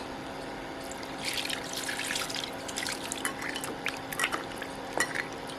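Tap water runs and splashes steadily as chicken meat is washed in a kitchen sink for biryani, with small clinks and drips mixed in.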